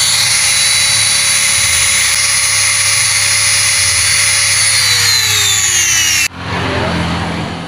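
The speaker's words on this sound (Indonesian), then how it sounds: "Dan yang terakhir bisa kita gunakan gerinda model amplas." A sanding-type grinder works on an engine valve, giving a steady high-pitched whine that slowly drops in pitch as it spins down, then cuts to a rougher, noisier grinding sound.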